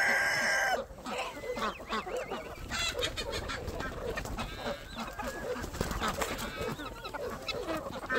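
Several roosters cluck and squawk while being caught by hand, a busy, noisy tumble of sound, with scuffling and a loud burst at the start, close by.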